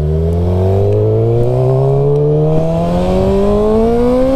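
A Suzuki GSX-R600 motorcycle engine winding up under throttle, its loud, close buzzing note climbing steadily in pitch over several seconds.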